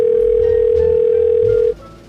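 A steady continuous telephone tone sounds loud and unbroken on a phone call for about 1.7 seconds, then cuts off, leaving faint background noise.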